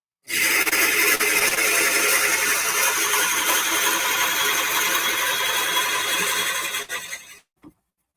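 A power drill boring deep into material in a workshop, a steady loud grinding whir that holds for about seven seconds and then stops abruptly.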